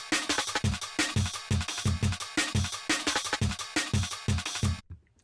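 A produced beat built on a jungle drum and bass breakbeat sample with a saturated snare and bass, punchy looping drum hits in a busy syncopated rhythm, loud and upfront, cutting off near the end.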